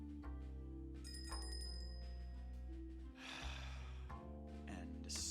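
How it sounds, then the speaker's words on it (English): A bell rings inside a post-apocalyptic video game, a bright metallic ding with sustained tones over a steady game soundscape, moderately loud with some rustling and clatter. "Ding-a-ling the bell."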